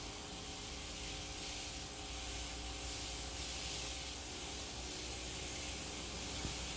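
Pressure washer with a 25-degree nozzle spraying a vehicle, producing a steady, even hiss of spray that stays constant throughout at a moderate level.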